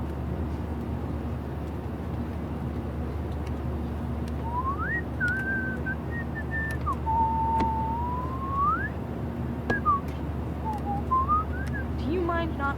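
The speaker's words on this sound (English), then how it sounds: "Do you mind not whistling?" A character whistles a wandering tune in the Life is Strange video game, a clear sliding melody of rising and falling notes over a steady low hum, with faint background noise.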